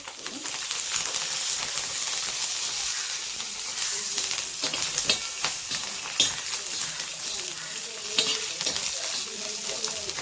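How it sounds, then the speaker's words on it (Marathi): Green chillies roast and fry in oil in a pan over a wood-fired stove, giving a continuous hissing sizzle with scattered pops and stirring scrapes close by. "अशा प्रकारे सर्व मिरच्या व्यवस्थित भाजून घ्यायच्या। नंतर त्याच्यामध्ये तेल ऍड करायचं।"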